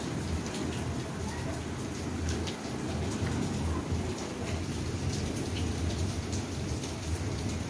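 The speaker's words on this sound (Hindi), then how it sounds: "कितनी प्यारी आवाज़ लगती है बारिश की" Steady, heavy rain pouring down outdoors, a dense continuous hiss with occasional louder drops and faint low rumbles, unbroken for several seconds with no talking.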